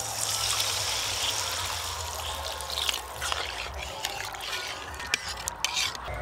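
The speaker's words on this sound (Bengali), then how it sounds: "এবার উপর দিয়ে জল দিয়ে দেব।" Water poured over spices and mustard oil into a pan of fish tel jhal, a continuous bright rushing pour that softens slightly toward the end.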